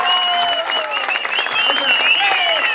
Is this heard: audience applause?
yes